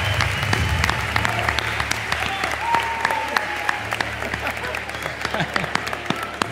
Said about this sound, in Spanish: Un aplauso, amigos y amigas, para el rey de la pista